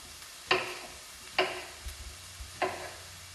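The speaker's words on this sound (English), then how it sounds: "we've sauteed the onion and garlic for a couple of minutes here and it's starting to get tender" Onion and garlic sautéing in a pan, with a faint steady sizzle under three distinct utensil knocks against the pan, spaced about a second apart.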